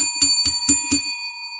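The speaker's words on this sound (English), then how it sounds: "Let's ring the bell for that." Five quick, bright strikes of a bicycle-style bell ring in a steady rhythm, each leaving a sustained ringing tone that fades out at the end.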